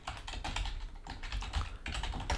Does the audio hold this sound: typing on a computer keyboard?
yes